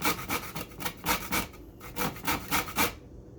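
A lemon is zested with a zester in a kitchen, giving quiet, rhythmic scraping strokes. Each rasping pass is brief and evenly spaced, with a short pause midway and no voices.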